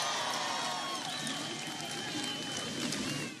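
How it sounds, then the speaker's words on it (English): A large crowd at a Philadelphia political rally for Barack Obama cheers and applauds for Josh Shapiro, a steady distant roar of voices with clapping and whistles blended in. "Give Josh a big round of applause"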